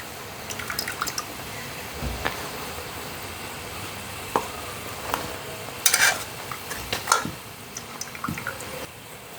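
Thenkuzhal, a Tamil fried dough snack, frying in hot oil, giving a low steady bubbling sizzle with scattered pops and clinks of a utensil stirring, close and fairly quiet.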